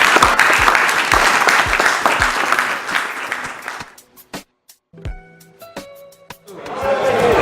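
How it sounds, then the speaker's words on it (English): A crowd applauds three film panelists, loud dense clapping that thins after a few seconds into scattered claps and a quieter gap, then swells again with murmuring near the end. "Can you give Kwame, Alfred, and Natalia a round of applause, please?"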